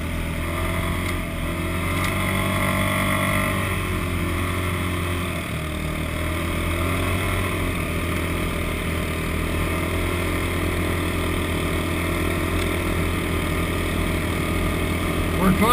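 Utility ATV engine, a Kodiak or Grizzly, running steadily while climbing a dirt road uphill toward a high lake, a continuous loud drone with shifting load throughout and voices talking over it.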